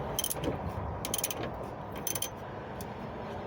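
A wrench ratchets a rear toe link bolt on a 2007–2012 Dodge Caliber, with quick clicking bursts of the pawl at intervals over a steady low background hum, close and fairly quiet.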